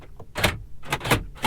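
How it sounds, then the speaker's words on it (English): Door locks on a 2020 Mercedes-AMG G63 latching shut, a few sharp mechanical clacks close up, like a bolt action snapping into place, heard alone with short gaps between them. "Listen to the door locks."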